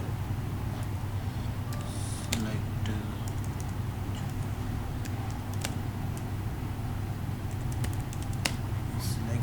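Typing a SQL query on a computer keyboard: quiet, irregular key clicks over a steady low hum, with occasional sharper taps.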